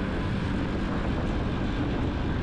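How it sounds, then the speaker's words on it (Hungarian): Keeway XLight 125 motorcycle engine giving a steady, even drone with broadband noise and no clear change in pitch, heard close and alone with no talking. "nem túl hangos a motor"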